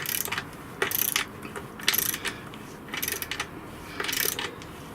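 Ratchet wrench tightening exhaust fasteners on a BMW R1200GSA motorcycle: several short bursts of rapid metallic clicking, close and moderately loud, separated by brief pauses, with no talking.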